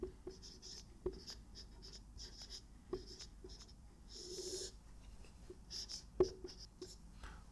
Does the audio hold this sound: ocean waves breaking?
no